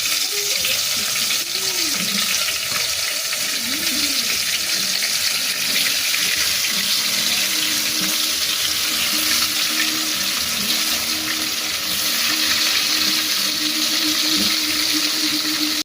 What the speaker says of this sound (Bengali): এবার মাছের তেলের মধ্যে কাঁকরোলগুলো ভেজে নেব